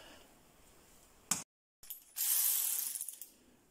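A Sealey battery ratchet unscrewing bolts: a sharp click, a short silence, then a loud whirring run that stutters and fades, close and alone without voices.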